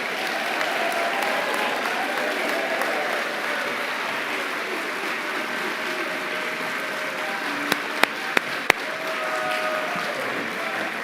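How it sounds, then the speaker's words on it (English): Steady applause from a chapel audience honoring a professor receiving tenure, a sustained, even wash of clapping that stays level throughout with a few sharp clicks near the end. "Will you please join me in honoring him with applause as he comes forward?"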